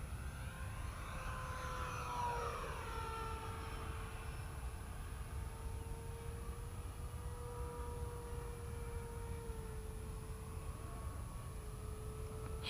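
An eFlite 70mm F-16 RC jet makes a low pass, its ducted-fan whine rising and then falling in pitch as it sweeps by, heard steadily over broad wind-like noise.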